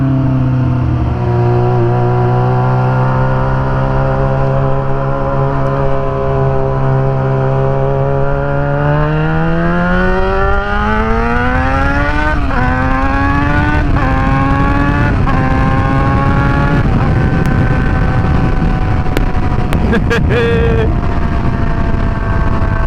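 A Yamaha FZ6R motorcycle fitted with R6 rear-sets runs loud and steady, its engine note climbing in pitch as it revs, then stepping through several quick shifts with rising and falling whine as the rider works the gears.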